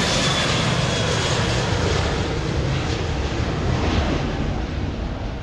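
A fixed-wing airplane near a small regional airport, its engine a steady broad roar that holds loud and constant throughout with some wind buffeting and no speech.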